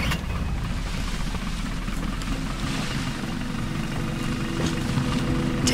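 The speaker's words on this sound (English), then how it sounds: "Start the engine." A boat engine in Battlefield: Bad Company 2 runs with a steady, close, droning rumble and a layer of water and wind noise that holds constant across the whole stretch.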